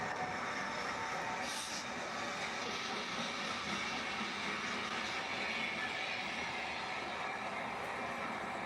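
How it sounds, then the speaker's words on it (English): A loaded coal train on chassis heads north through a signal bridge, a continuous broadband rumble and rolling wheel noise holding steady and heard from fairly close by, with no voices. "A loaded chassis coal train heads north through the signal bridge at Greg's."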